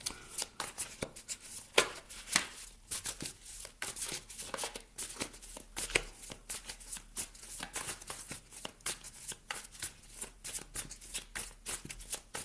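Tarot cards being shuffled by hand for a reading, a rapid run of crisp riffling and flicking that crackles on and off close to the microphone for about twelve seconds, with no talk.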